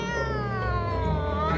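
A cat facing an alligator lets out a long, loud, drawn-out yowl, a sustained wavering caterwaul heard close and alone.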